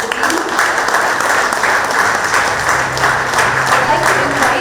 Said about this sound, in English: let's give a huge round of applause for the team